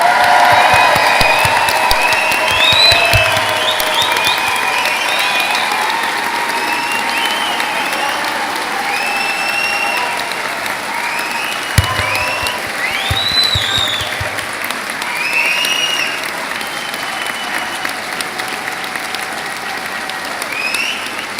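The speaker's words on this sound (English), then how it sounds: "It is now your chance to cheer." A crowd at a college higher education awards ceremony applauds continuously with cheers and whoops rising over the clapping, a sustained, full-room roar that holds steady throughout.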